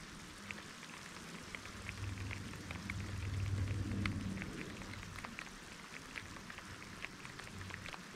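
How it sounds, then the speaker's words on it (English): Steady rain patters at moderate volume, with scattered droplet ticks and a low rumble underneath that swells midway. "Sorry if any water's on the lens, guys, but it's raining."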